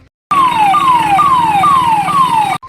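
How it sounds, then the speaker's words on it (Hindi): Police siren wailing on a street during a Rapid Action Force flag march, a repeating falling sweep cycling about every half second, loud and close over steady traffic rumble. "अचानक से सड़क पर बजते पुलिस के सायरन"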